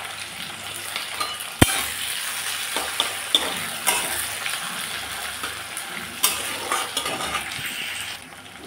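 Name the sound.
sliced onion frying in hot oil with nigella seeds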